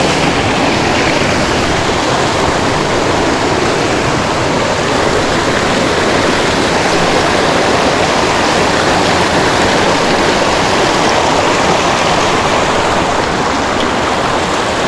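A small waterfall on a creek pours steadily in the foreground, with a loud, continuous broadband rush of splashing water that holds unchanged throughout, no voices over it.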